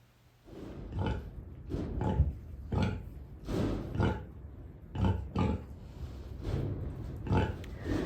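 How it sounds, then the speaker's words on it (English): A sow with newborn piglets gives low, repetitive grunts in a steady series of short bursts roughly every half second to second, close and moderately loud. "They do this low, repetitive grunt when it's time for the babies to come over and nurse."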